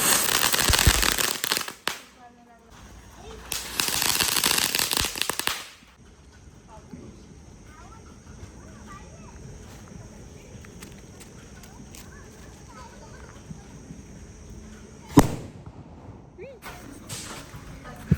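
Diwali firecrackers burst outdoors during Lakshmi Puja night: two loud crackling bursts near the start, then quieter background, a sharp single bang later and more pops, with voices around.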